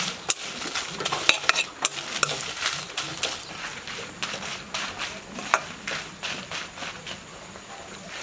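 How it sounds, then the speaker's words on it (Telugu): Dry red chillies fry in a spoonful of hot oil in a pan, making a soft continuous sizzle broken by frequent sharp clicks and taps from stirring, heard close up with no talking. "ఇప్పుడు ఆయిల్ మంచిగా ఫ్రై చేసుకుందాం."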